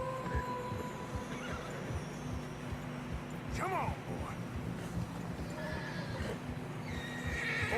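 Horses in the video game Red Dead Redemption 2 whinny loudly amid steady clip-clopping hooves through fresh snow, with a voice speaking briefly over the scene.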